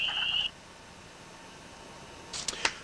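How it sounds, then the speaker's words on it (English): A single spring peeper frog at night in a state park gives a steady high peep that breaks off, followed later by a couple of quick sharp chirps over a quiet, faintly hissing background. "you hear that one frog peeping, you gotta laugh"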